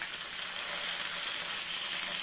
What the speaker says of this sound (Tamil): பொரிச்சிருக்க மீனை இப்போ திருப்பி போடணுங்க